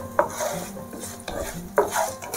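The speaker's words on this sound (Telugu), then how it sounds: "మినపప్పు, శనగపప్పు 2 కొంచెం దూరగా కలర్ చేంజ్ అయ్యేంత వరకు ఫ్రై చేసుకోవాలి" Urad dal and chana dal are fried and stirred in a pan, with a few close scraping and clinking strokes of a spoon over a faint background sizzle.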